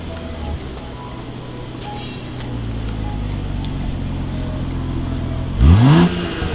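A BMW X7 fitted with a new body kit idles with a low steady rumble, then gives one sharp rev near the end that swells and rises quickly before falling away.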